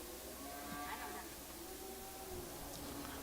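Red Angus cattle at a calf and stocker livestock auction, a faint drawn-out moo rising under the steady hum of the sale barn, with a voice heard briefly.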